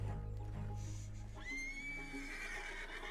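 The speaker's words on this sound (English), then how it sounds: "I can't calm the horse." An agitated horse in Red Dead Redemption 2 lets out a rising, drawn-out whinny over a low rumbling background, with faint hoof movement near the start.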